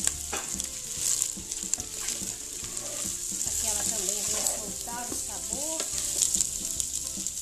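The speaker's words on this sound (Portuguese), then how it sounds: "a linguiça e o bacon, você vê que ele já tá bem fritinho" Sausage and bacon frying in a pan with onion, a steady close sizzle with scraping stirring sounds and a faint voice briefly in the background.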